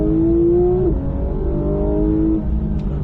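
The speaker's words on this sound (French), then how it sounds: "on accélère de plus en plus fort" A car engine revs up steadily under hard acceleration at Lohéac, its pitch climbing then dropping as it shifts, loud and close, with no voices.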